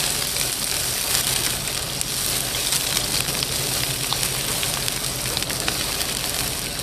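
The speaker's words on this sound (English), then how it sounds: "We're going to go ahead and add our onions. And our green peppers. And toss those around." Onions and green peppers fry in a hot skillet for a steak-and-eggs breakfast, a loud, steady, close sizzle that holds without a break from start to finish.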